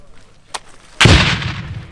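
A single sharp gunshot or artillery blast on the eastern front in Ukraine booms close and loud, trailing into a rumbling decay after a faint earlier click.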